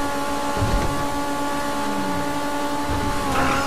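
Sustained engine drone of a car pushed flat out at its limit in GTA Online on Xbox 360, a steady droning hum with a faint rising pitch sweep and some bumps, no talk.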